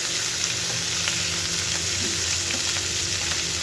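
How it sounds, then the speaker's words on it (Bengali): Pomfret-like fish frying in oil in a pan, a steady close hiss and sizzle with small crackles throughout and no talking. "মাছগুলো এক পাশ ভাজা হয়ে গেছে, এগুলোকে উল্টে দিতেছি।"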